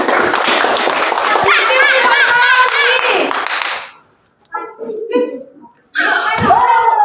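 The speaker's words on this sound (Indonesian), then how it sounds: "tepuk tangan buat Gina." Schoolchildren in a classroom clap for a classmate in a quick, loud burst of handclaps. The clapping breaks off into a short pause, children's voices follow, and the clapping resumes.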